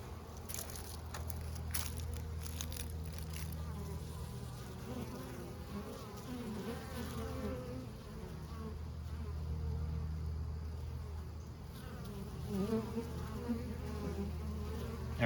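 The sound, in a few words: honeybees buzzing at hive entrance, bringing in pollen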